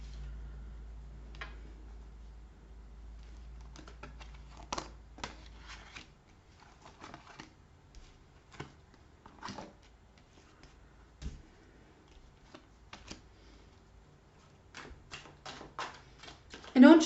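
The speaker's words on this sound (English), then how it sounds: "I feel like I need to shuffle these cards more." Tarot cards are shuffled by hand in a quiet room, a run of soft crisp riffling flutters and light ticking snaps coming in irregular bursts, close and fairly faint, with a low steady hum beneath.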